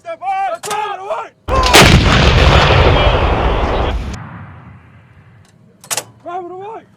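An M777 155mm howitzer fires with one loud, close blast that rolls out into a long fading rumble, with people shouting briefly before and after.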